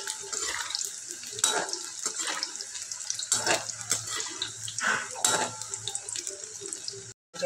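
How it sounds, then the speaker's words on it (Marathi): Thin sweet potato slices deep-frying in hot oil for fasting-day chips, a steady dense sizzle and crackle that swells and fades in bursts, fairly close and without talk. "दोन्ही बाजून आलटून पलटून तळून घेऊ"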